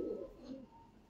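Male pigeon giving a single soft, low coo close by, faint and alone in a quiet setting.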